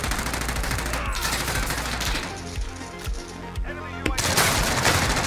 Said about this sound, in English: that PPSH quick as hell, dude. It's breaking armor left and right.